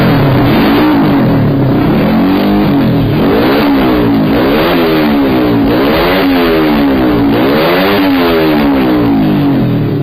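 A racing motorcycle engine bored out from 100cc to 150cc screams loud and close, revving repeatedly through rising and falling pitch sweeps as it accelerates and shifts, with no talking.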